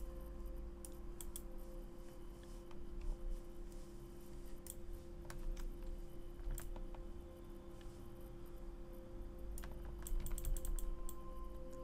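Computer keyboard keys A and D are pressed while playing Life Is Strange, producing scattered light clicks in short bursts over a low background hum.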